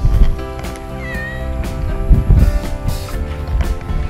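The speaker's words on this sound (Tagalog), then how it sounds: "May pusa lumapit." A cat on a road trip in Batangas meows close and loud a few times, its cries rising and falling over background rumble and soft movement noises.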